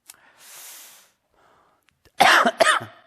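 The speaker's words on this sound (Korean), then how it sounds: "이 시점에 기침하면 안 되는데" A soft breathy sound, then after a pause two sharp, loud coughs in quick succession, close to the microphone.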